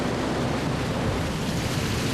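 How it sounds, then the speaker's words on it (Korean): Rough sea waves and strong wind battering a small fishing boat off Cambodia make a loud, continuous roaring wash with no pauses and no voices. "갑자기 파도가 매섭게 몰아칩니다."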